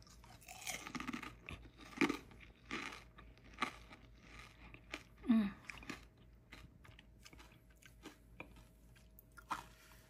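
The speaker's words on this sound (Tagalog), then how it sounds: "Sobrang crunchy. Kakamayin ko na. Try natin." Crunchy fried chicharong bulaklak is eaten by hand close to the microphone, giving sharp, irregular crunches and chewing bites over a quiet background with no talking.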